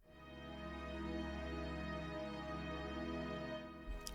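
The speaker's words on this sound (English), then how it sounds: "So with it all the way panning all the way to the left and right, it sounds like this." Music sample built in the style of 4batz's "Act ii Date @ 8", run through Pancake auto-panning set to sweep fully left to right, giving a steady sustained loop with a dense low end that cuts out briefly near the end.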